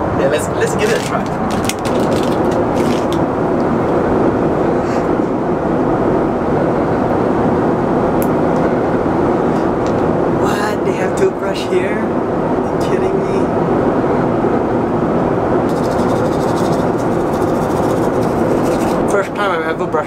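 A steady, dense roar of airplane cabin noise fills the whole stretch, constant and loud, with faint clicks and rustles on top.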